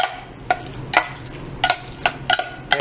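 Pasta being tossed with Southwest seasoning in a pan, with a series of sharp clinks and scrapes of a utensil against the pan, about eight distinct strokes at an uneven rhythm over a low background sizzle.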